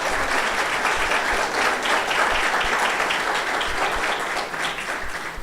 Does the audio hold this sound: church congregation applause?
yes